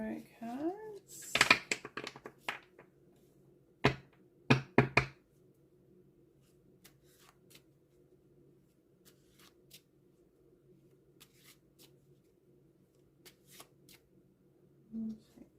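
Tarot cards shuffled by hand in a burst of dense riffling, then a few sharp taps and knocks as the deck is squared, followed by near silence with faint soft handling.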